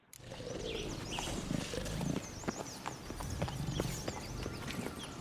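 Hooves of Roach, the horse in the video game The Witcher 3, beat out a steady, continuous clip-clop at moderate loudness over a busy outdoor game ambience.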